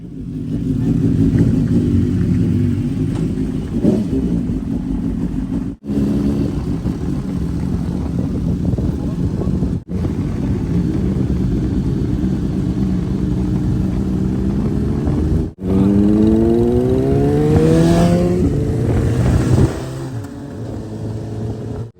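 A 2015 BMW S1000R motorcycle idles loudly nearby, then revs and pulls away, with rising engine pitch through the gears as it accelerates off.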